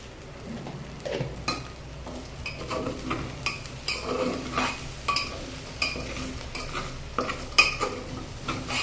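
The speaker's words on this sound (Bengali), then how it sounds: "নিচে যাতে লেগে না যায়, খুব ভালো করে ভাজতে হবে নেড়ে চেড়ে।" Vegetable khichuri being fried and stirred in a pan, with a low steady sizzle under repeated scraping strokes and light metallic clinks of the spoon against the pot.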